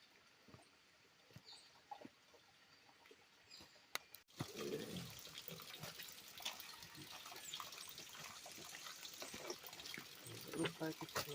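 Spring water begins pouring steadily into a jug partway through, a close gurgling rush that continues, with faint talk in the quieter opening.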